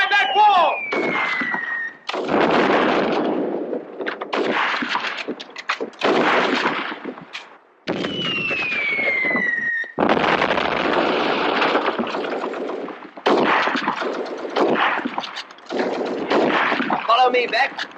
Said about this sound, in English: Firing from behind that wall!